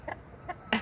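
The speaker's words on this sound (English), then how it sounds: "here comes Mr. Rooster" A farmyard rooster among newly bought auction chickens giving a few short soft clucks, two brief calls followed by a louder burst, close and quick.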